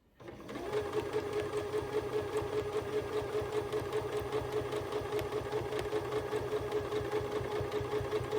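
A sewing machine starts up and runs in a steady, fast, close whir, stitching continuously while quilting with rulers.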